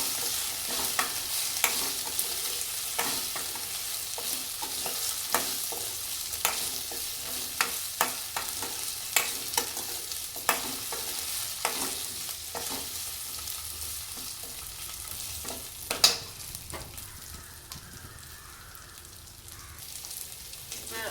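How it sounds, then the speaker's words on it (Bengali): Cut potatoes sizzle and fry in a pan while a spoon stirs them, giving regular scraping knocks over a soft continuous crackle, with a louder clatter near the end. "আলুগুলো এর মধ্যে দিয়ে আলুটাকে একটু নাড়াচাড়া করে দিতে হবে"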